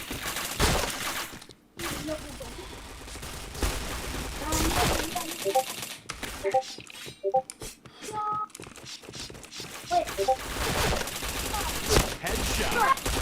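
Bursts of automatic gunfire in a shooting video game crackle in rapid volleys, some dense and loud, some short, mixed with in-game beeps and clicks, while a player talks through it.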